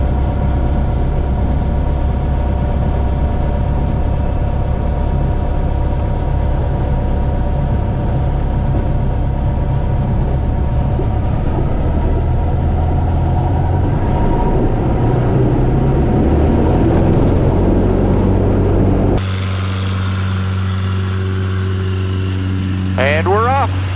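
Small aircraft engine on a takeoff roll down runway 27, a loud steady drone that builds in power and holds close for about nineteen seconds before dropping to a lower hum.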